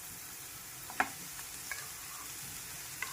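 Cooked rice and vegetables for Schezwan fried rice sizzle gently in a pan while being stirred, with a few light clinks of the utensil against the pan.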